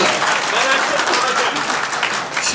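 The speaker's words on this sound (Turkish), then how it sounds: "arkadan baktım şöyle 10-15 kişi alkışlıyor" Delegates at a tense general assembly applaud: dense, sustained clapping from a sizeable crowd fills the whole stretch, steady and fairly loud, with murmured voices mixed in beneath.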